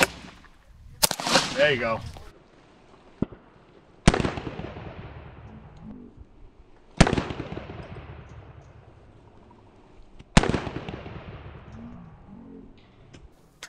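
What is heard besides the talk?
AK rifle shots hitting level 4 body armor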